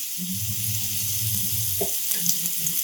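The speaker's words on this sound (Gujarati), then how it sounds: "ડુંગળીને થોડી આપણે ચલાવીશું" Chopped onions sizzle and fry in a hot pan for a kurkure snack, a steady crackling hiss broken by a brief scrape of stirring near the end, close and alone without talk.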